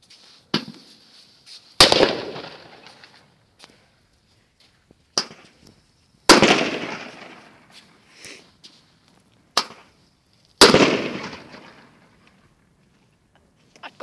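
Several loud firecracker bangs from firecrackers set off in a hole go off at irregular intervals, each one ringing out with a long echoing tail, with a few fainter pops between them.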